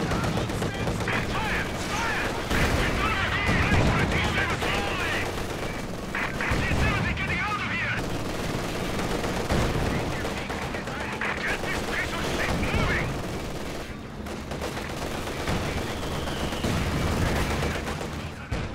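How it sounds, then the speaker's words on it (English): Machine gun fire and dense battlefield gunfire in the video game Company of Heroes 2 on the Road to Karkov map, a continuous loud barrage of rapid shots and blasts lasting throughout. "Meron siyang machine gun."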